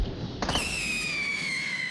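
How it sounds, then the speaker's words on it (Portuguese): Gunfire from a PUBG Mobile match: a sharp shot cracks near the half-second mark, followed by a long ringing whine as the round passes by, with no talking. "Nossa, o tirão passando ali."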